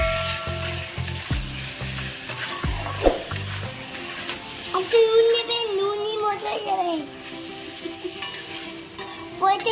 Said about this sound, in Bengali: এবারে আমি পুরো মশলাটা দিয়ে এই টোফুটাকে ভালো করে কষিয়ে নেব।